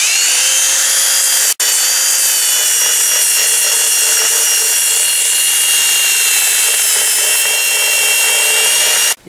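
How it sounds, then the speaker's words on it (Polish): A belt sander smooths the wooden handle of a self-splitting axe during hanging, a loud steady whine that runs almost without a break, with one brief cut early on and another at the end. "Teraz wyrównamy sobie to szlifierką taśmową."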